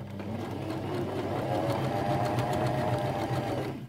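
A Janome FD206 or RE1306 sewing machine runs a steady straight stitch along the edge of fabric, a close and continuous whirring hum lasting a few seconds before it stops.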